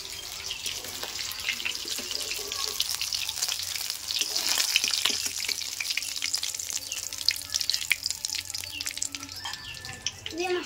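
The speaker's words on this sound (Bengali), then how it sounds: "এবার পরের গুলো ভেজে নেবো আমি আস্তে আস্তে" Fish sizzle and spit in a frying pan, a dense crackling hiss that swells in the middle, with scattered utensil clatters and light scraping.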